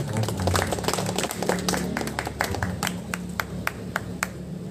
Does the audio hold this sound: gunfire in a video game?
no